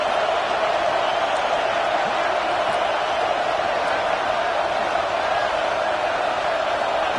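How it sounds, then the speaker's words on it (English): A stadium crowd in a Madden football video game roars near the goal line, a dense, continuous wash of cheering held at a steady loud level for several seconds. "the crowd really making some noise now, trying to help out this defense to get this stop near the goal line"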